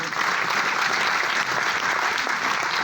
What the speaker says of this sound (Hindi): ये पॉइंट यदि अच्छा है ना तो खुद के लिए थोड़ा सा ताली बजाना पड़ेगा।